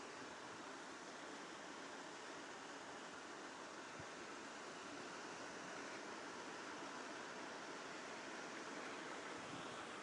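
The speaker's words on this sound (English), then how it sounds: "So I just thought I'd just record the sound of running water" Steady rushing of running water in Queens Park, Longton, Stoke-on-Trent, in the rain, a broad continuous wash of noise with no breaks, close by and fairly loud.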